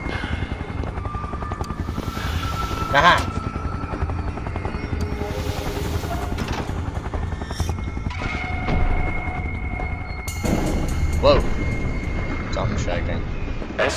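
Helicopters gather at Gate B in the video game SCP: Containment Breach, their rotors making a continuous, loud chopping rumble throughout. A man briefly exclaims partway through, and faint scattered effects sound over it.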